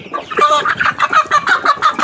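A young crested rooster clucks and gurgles in quick, repeated bursts, close and fairly loud, with a few higher squawks mixed in.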